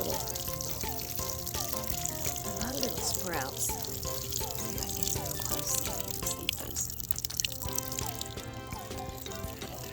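Garden sprouts being watered, with a steady trickling and dripping of water running underneath continuous talking and a faint musical background.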